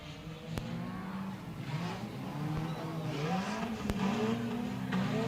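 Sport compact race cars at Raceway Park, engines droning and revving together at a steady, fairly loud level, one car struggling to turn, with occasional sharp clicks and faint tire noise over the pack.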